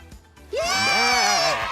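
A goat gives a single drawn-out, wavering bleat lasting about a second, loud and close, after a brief quiet moment.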